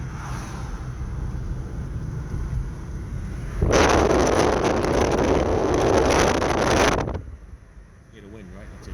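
Wind rushing against a 2013 Honda Civic while driving on a road, a loud broadband whoosh that swells for a few seconds in the middle and then drops back to a quieter cabin rumble.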